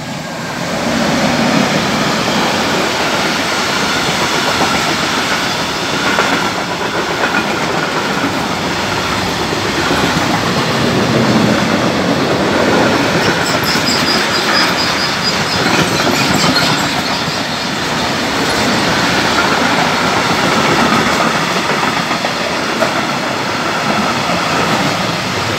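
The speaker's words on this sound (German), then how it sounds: "jetzt will ich den Güterzug durchfahren in Großkotzenburg" A freight train hauled by a class 187 locomotive runs through the station at Großkrotzenburg, a loud, continuous roar of wagons with rhythmic wheel clatter and some squealing, sustained for about twenty-five seconds with no voices.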